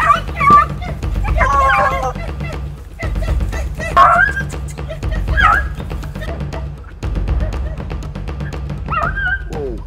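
A dog barks and yips several times in outdoor Tobago surroundings, short sharp calls scattered over a steady low hum, while people talk nearby.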